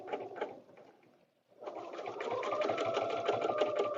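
Sewing machine stitching through a paper piecing template, running in a short burst, pausing briefly, then resuming in a steady continuous whir of rapid needle strokes, close and fairly loud.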